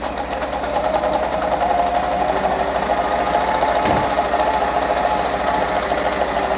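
A Pfaff 230 sewing machine on a treadle stitches a tight zigzag with a fast, steady mechanical whir and rhythmic ticking, close and continuous, with a brief thump near the middle.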